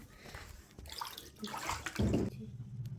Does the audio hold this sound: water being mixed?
yes